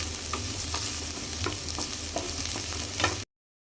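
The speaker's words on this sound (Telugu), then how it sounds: "అవి కూడా వేసుకొని బాగా మిక్స్ చేసుకోండి" Onions, carrots and beans fry and get mixed in a pan: a close, continuous sizzle with rhythmic scraping strokes of a spoon, ending abruptly in silence.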